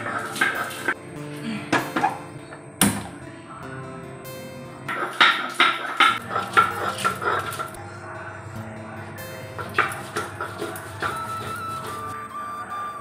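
Roasted cumin, ginger and green chilli are ground on a stone slab, producing repeated scraping and knocking strokes of stone on stone in irregular bursts, close and fairly loud, without speech.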